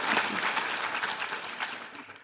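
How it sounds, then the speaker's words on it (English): Applause from the audience at a nursing college graduation ceremony, a dense burst of clapping throughout, fairly close and loud, alone without talk. "I just want to first stop and give you guys another round of applause."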